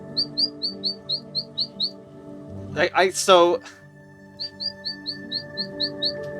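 Repeated short, bright bird tweets from a text adventure video game, a steady run of about eight chirps, then a brief burst of speech, then another run of evenly spaced tweets.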